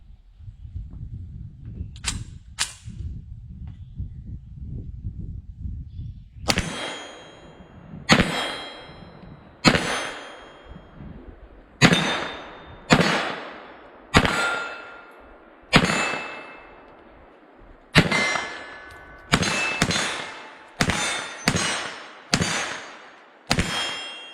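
Shots from a GSG MP 40 9mm submachine gun strike steel targets in a series of sharp metallic clangs, roughly a dozen separate impacts spaced a second or two apart, each ringing briefly after a low rumbling stretch at the start.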